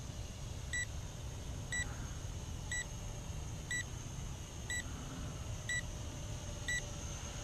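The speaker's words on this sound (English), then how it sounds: "Beeps too much, drives you crazy." Short electronic beeps repeat steadily about once a second, thin and high-pitched over a low, constant rumble, from a VISUO XS809HW toy drone.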